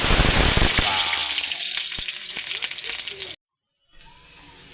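Leftover rice hits very hot chicken fat, starting with a loud crackling sizzle that gradually eases with a few sharp pops, then cuts to silence before a fainter sizzle returns.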